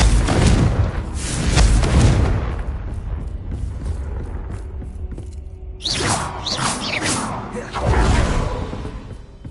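Confringo fire spells burst in Hogwarts Legacy, one heavy booming explosion with a rushing whoosh that rolls and fades, then a second blast and a third later on, loud and close.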